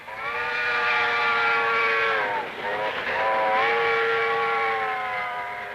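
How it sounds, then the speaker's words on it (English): A passing train sounds a loud multi-tone whistle held steadily, then its pitch drops sharply as it goes by before the long blast continues at the lower pitch, with no talking. "Do you hear how that train whistle that you just heard and saw, do you hear how it dropped in pitch?"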